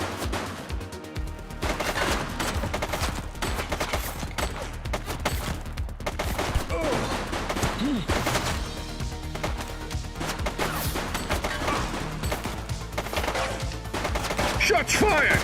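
Video game gunfire in rapid bursts and sustained fusillades, loud and dense throughout, with crashes and scattered in-game voices underneath.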